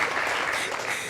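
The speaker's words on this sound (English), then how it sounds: "I'll take some claps." An audience at a closing panel claps steadily, a dense burst of applause that fades slightly toward the end, with no voices over it.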